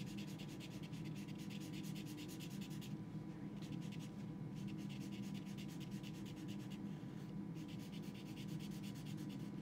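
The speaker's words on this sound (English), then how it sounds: "coloring with Sharpie is more satisfying for you" Sharpie marker scratching across paper while coloring in a jellyfish watercolour piece, a steady close rubbing and squeaking texture that runs continuously with brief pauses between strokes.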